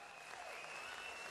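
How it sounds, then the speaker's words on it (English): Crowd applause at a boxing event after a fight between Joel Brunker and Roberto Lerios; a continuous wash of clapping from a large audience, fairly faint and steady throughout. "give them that big round of applause."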